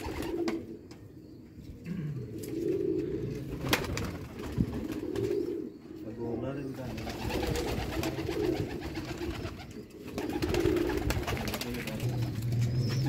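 Sialkoti pigeons coo repeatedly on a rooftop in Sialkot, soft rolling coos recurring every couple of seconds amid outdoor background noise, with occasional wing flutters.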